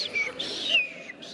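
Small spring birds chirp and whistle in short high tweets and a few sliding calls, fairly close and continuous over a soft background.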